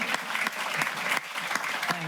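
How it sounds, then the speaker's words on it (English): A live audience at a QED event breaks into steady applause, dense clapping at close range filling the space throughout, with a few voices faintly mixed in. "A round of applause"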